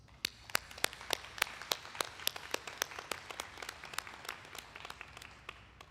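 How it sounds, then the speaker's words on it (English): A commencement audience applauds, heard as sparse, distinct hand claps in a fairly regular rhythm over a quiet room, sounding like only a few people clapping near the microphone. "Join me in giving her a round of applause."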